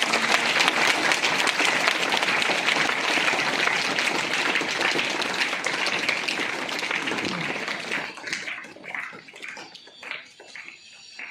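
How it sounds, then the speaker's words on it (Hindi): A room of children and adults at a school prize distribution claps loudly and continuously for several seconds, then the applause thins into scattered claps and fades toward the end. "एक बार जोरदार तालियां नहीं दस।"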